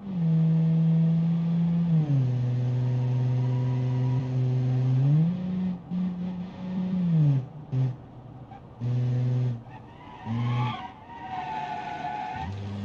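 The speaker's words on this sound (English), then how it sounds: "Put that thing in the drive. Alright, let's go. I can just like floor it." A 1990s minivan in the BeamNG driving game, engine revving hard at full throttle with a steady droning tone that climbs and drops through gear changes, later breaking into shorter bursts and a brief tire squeal.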